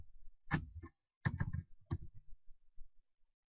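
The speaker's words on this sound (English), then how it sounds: "So the second step is type in bettertesting.net" Web address typed on a computer keyboard: a few short clusters of quick, quiet key clicks separated by brief pauses, close and otherwise silent.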